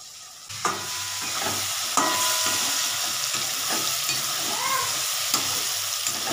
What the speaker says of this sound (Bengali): এবার এটার মধ্যে না একটু আমি ঘি দিয়ে দিচ্ছি